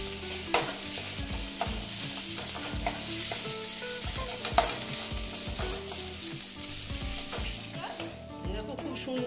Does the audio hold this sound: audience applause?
no